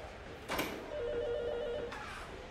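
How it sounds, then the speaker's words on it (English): A telephone rings in a dramatic melodrama scene, a single buzzing ring burst lasting about a second within a quiet room, loud and close with no talk over it. "Phone's ringing."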